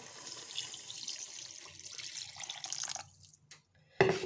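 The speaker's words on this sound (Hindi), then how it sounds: "अब मैं इसमें 4 गिलास पानी के ऐड कर दूंगी।" Water poured from glasses into a pot of chicken and peas that were being fried, a steady splashing stream for about three seconds, then a brief drip and a final splash near the end.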